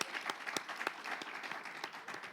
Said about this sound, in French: Non, applaudissez toujours.